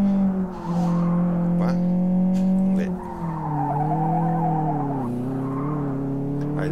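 A Chevrolet Corsa drifts in the racing game Live for Speed, its tires squealing loudly and continuously over the engine note, the pitch wavering as the slide shifts.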